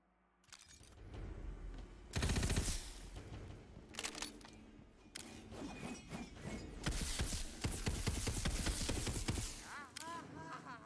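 Shotgun blasts from a first-person shooter, Tiny Tina's Wonderlands, fire in several loud bursts with sharp transients over busy game effects and music.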